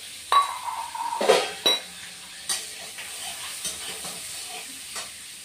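Fried potatoes tipped into a sizzling pan of Bengali fish curry with browning onions, then stirred: a few sharp scraping clinks and bursts of sizzle, close and clear, fading to a quieter frying hiss with occasional spoon knocks.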